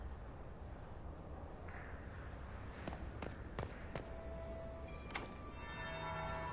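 Several clear bell strikes ringing in the Dragon Age Inquisition video game, spaced a few seconds apart over a soft ambient background, with a lingering tonal ring after each hit.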